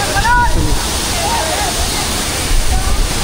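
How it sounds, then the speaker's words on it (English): The Sada waterfall roars under strong gusting wind, a loud broad rushing wash buffeting the microphone throughout, with a voice speaking over it. "Waterfall. Look at this. Very big."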